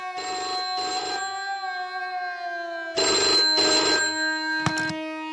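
A telephone bell rings in two double bursts with a pause between them, loud and close, followed by a brief sharp clatter.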